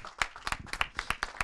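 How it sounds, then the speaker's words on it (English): Scattered hand claps from an audience at a music video launch event, a brief, faint patter of uneven claps heard from a distance. "Round of applause."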